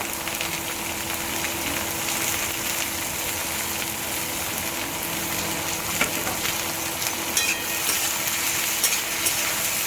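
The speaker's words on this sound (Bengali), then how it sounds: "পেঁয়াজটা আমার হালকা হালকা লাল হয়েছে, এবারে আমি ছাড়বো এর মধ্যে গাজর আর বিনস, দুটোই একসাথেই ছাড়বো" Carrots and beans are tipped into onions already frying for chowmein, producing a steady, close sizzle with stirring scrapes throughout, sometimes punctuated by sharper clinks, and nobody talking.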